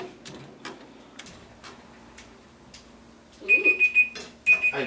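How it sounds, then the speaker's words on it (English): Several timer alarms beep in rapid repeated bursts from inside a pocket, a steady high electronic tone pulsing loudly in two clusters near the end after a stretch of quiet rustling. "Oh, I have multiple timers going. I set off timers in my pocket."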